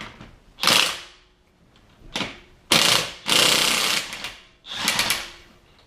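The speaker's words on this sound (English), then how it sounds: "let's get these lug nuts off now that Jeep's up in the air" An impact wrench takes the lug nuts off the back passenger wheel of a raised Jeep in a home garage, firing in five loud close rattling bursts of varying length with short pauses between.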